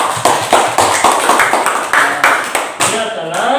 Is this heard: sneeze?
no